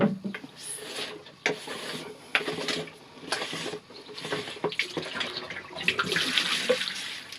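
Water gushes steadily from an opened swimming-pool filter housing. The rush is close and continuous, with splashy surges and a few knocks or rubbing sounds, and no one speaks.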